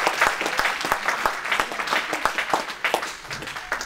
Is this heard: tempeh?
no